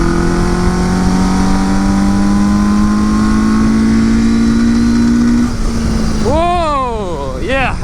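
Suzuki GS850 scrambler motorcycle with a newly replaced clutch running on a test ride, its engine droning loud and close, then revving sharply up and down near the end under wind noise.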